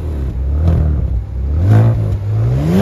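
The 3.3-liter twin-turbo engine of a 2024 Genesis G70 AWD sedan revs close by, climbing and falling through a couple of throttle blips over a steady idle, loud and with no voices.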